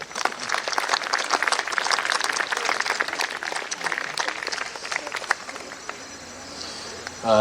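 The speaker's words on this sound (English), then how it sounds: "We all can clap for Bhavneet Upasni." Applause from the audience at a school graduation ceremony for a graduate, a dense patter of clapping that fades out before the end, followed by a brief voice.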